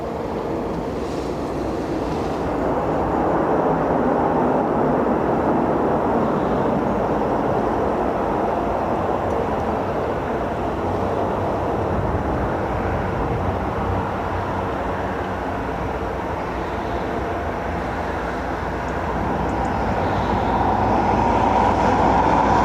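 An ATR turboprop arriving from Edinburgh at Dublin airport gives a sustained loud engine roar and broadband rumble, holding steady for over twenty seconds with a higher propeller tone rising near the end and no voices.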